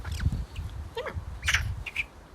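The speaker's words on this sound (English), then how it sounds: "She's an Eurasian magpie, a member of the crow family." A Eurasian magpie, a member of the crow family, gives a few short harsh chattering calls at middle distance outdoors, with a low rumble of background noise underneath.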